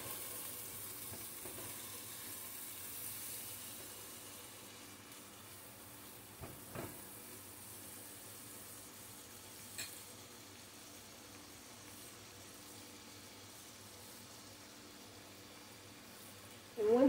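Onions and peppers sizzling in oil in a pan for Spanish rice, a faint, steady hiss throughout with a few small clicks, quiet and close, no talking.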